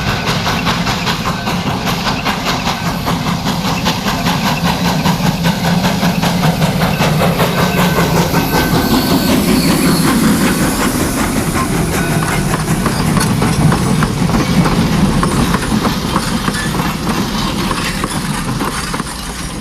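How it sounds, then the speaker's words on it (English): A steam train passes through an original tunnel blasted by Virginia City miners, its loud, close rumble carrying a steady rhythmic clatter and chuffing pulse that swells and holds throughout. "The train, well, it passes through this original tunnel that was blasted open by Virginia City miners."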